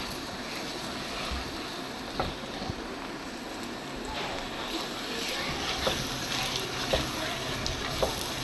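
Makhandi halwa frying in a pan and being stirred hard with a ladle, a steady loud sizzle with scraping strokes repeating every second or so, close by, while someone speaks now and then.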